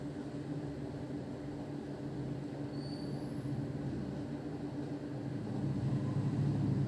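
Oil sizzles steadily while sweet flour dough deep-fries, a constant dense hiss and bubble that holds even throughout and swells slightly near the end, with no voices.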